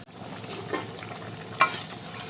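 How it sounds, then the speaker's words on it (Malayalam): Soft, steady bubbling of lentil fritters frying in oil, with a few light scraping clicks as fritters are lifted out. "ഇത് നമുക്ക് എണ്ണയിൽ നിന്ന് കോരിയെടുക്കാം"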